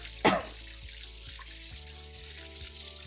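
Water poured into a hot compost starter mix, a brief splashing gush followed by a steady trickling flow, fairly close.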